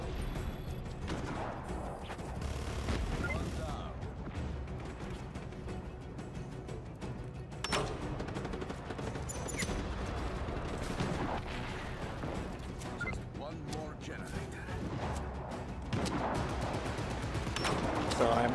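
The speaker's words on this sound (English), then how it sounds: "I gotta use regular old gunfire for this one." Gunfire in Just Cause 3 crackles in bursts of shots and rattling volleys over a dense, noisy game soundscape, fairly faint, with a voice talking over it.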